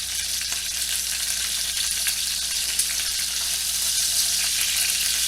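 Boneless skin-on chicken thighs fry in a pan just after being flipped, a loud, continuous, close sizzle with dense spattering and no talking.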